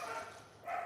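A guard dog barks faintly in the distance, two short barks with a brief pause between them, in a quiet setting.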